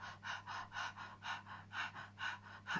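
Rhythmic panting breaths in a classical singing exercise, about a dozen quick, evenly spaced exhalations close to the microphone over a faint low hum.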